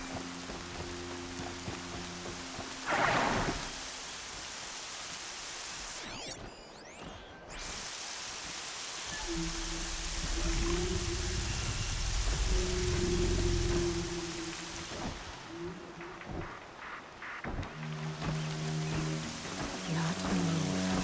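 Steady hiss of rain falls in the Horizon Zero Dawn video game world, a soft continuous wash with occasional heavier bursts and low rumbles underneath.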